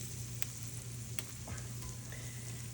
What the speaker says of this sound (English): wings are done. Hear those sizzling.